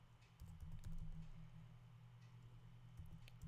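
Keys on a computer keyboard tapped in quick, even bursts while entering IP phone configuration commands, quiet and close, with no one speaking.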